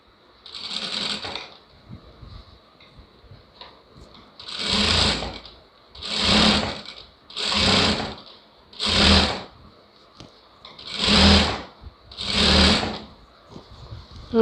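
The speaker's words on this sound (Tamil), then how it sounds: "மடித்து விட்டு படிமான தையல் போட்டுக்கலாம்" Sewing machine stitching a turned hem on a lined blouse, heard as about eight evenly spaced bursts of whirring stitching with short pauses between, close and clear with no talking.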